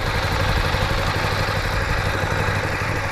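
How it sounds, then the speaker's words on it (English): A 2014 Ducati Streetfighter 848 motorcycle idles close by, its engine giving a steady, even rumble with a light mechanical clatter and no voices. "so this is your bike at idle."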